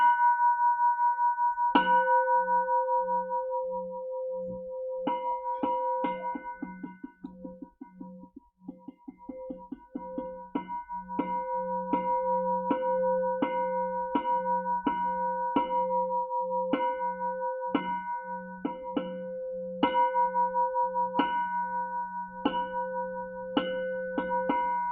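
A bell at a Buddhist service rings out in a long series of clear, metallic strikes. At first the strikes come spaced, then they speed up into a quick roll, then settle into a steady repeating pattern with sustained ringing tones and no voices.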